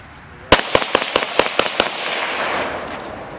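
Rapid gunfire at a family's outdoor country-style shooting range: about eight sharp shots fire in quick succession, loud and close, then ring out into a lingering wash of echo and noise.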